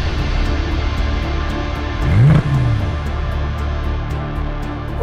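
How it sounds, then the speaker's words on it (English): A Porsche Panamera S E-Hybrid accelerating with electric e-boost, a steady loud cabin hum with a brief engine swell that rises and falls near the middle, then settles back to an even drone. "And now we will drive with e-boost. This really adds some forward propulsion. Wonderful acceleration."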